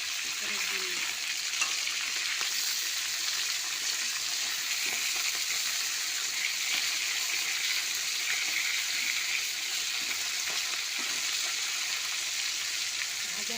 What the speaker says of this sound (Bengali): মাছ ভাজা হয়ে গেছে আমি এবার তুলে নেবো